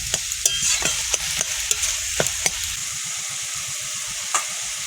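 Cumin and chili water added to a hot frying pan while cooking amudi fish, bursting into a loud continuous sizzle close up, with sharp spoon scrapes and clicks as the pan is stirred.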